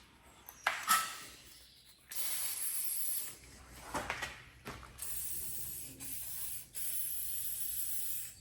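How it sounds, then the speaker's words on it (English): WD-40 sprayed onto rusty car bolts under the rear arch of a Honda Integra DC2 Type R, a close run of loud hissing aerosol bursts with short pauses, nozzle clicks and rattles between them. "You want to get your squirt juice on the go, your WD-40, and saturate everything you can"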